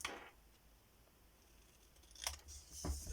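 Scissors snip a paper bookmark at an angle during a spring craft tutorial, giving a couple of faint, crisp cuts near the end after a quiet stretch.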